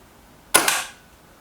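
A Kral Jumbo Hi Cap air rifle fires a pellet: a single sharp, close crack with a brief second snap right after, decaying quickly into quiet.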